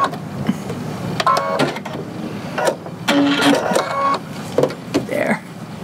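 Sewing machine running after being re-threaded, giving several short bursts of mechanical stitching with clicks and whirs, close and moderately loud.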